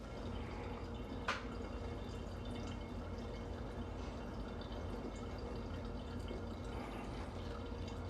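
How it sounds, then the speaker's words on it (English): Brandy draining slowly through a filter, a soft, steady trickle and faint dripping with one brief clink early on, quiet and continuous with no talking. "I think it's draining okay."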